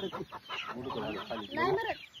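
Village rooster clucking in short, busy bursts at close range, with bits of talk mixed in.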